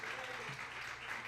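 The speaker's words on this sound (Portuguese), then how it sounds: "A igreja pode aplaudir ao Senhor pela vida dos nossos irmãos." A church congregation at an evening prayer service claps in a steady, moderately faint round of applause lasting over a second, with a hint of voices mixed in.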